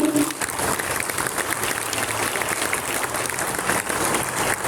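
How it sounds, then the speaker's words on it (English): Audience applause at a National Sports Day award ceremony honouring athletes, a steady crowd clapping that carries on throughout. "A round of applause for my son, sir."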